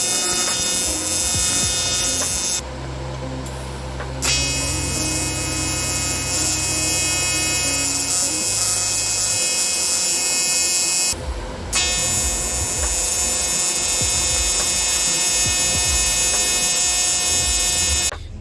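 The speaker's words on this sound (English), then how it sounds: "get everything set up for me to do some aluminum TIG welding and get to welding it up" Aluminum TIG welding on a cold air intake for a rotary-engine Miata gives a loud, steady electrical buzz and hum close by. It cuts out briefly twice, with no talking.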